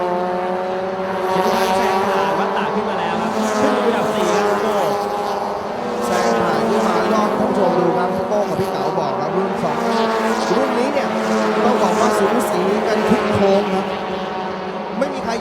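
Race cars in an SuperEco class race at a TSS 2020 round scream past on the track, their engines rising and falling in loud overlapping tones, while a commentator talks over them.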